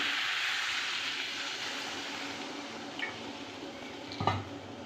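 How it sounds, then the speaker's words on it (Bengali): Water is poured into a simmering vegetable curry for luchi in a Bengali village kitchen, a steady soft rushing wash that holds throughout, with a couple of faint utensil knocks near the end. "এবার আমি এতে দিয়ে দেব জল"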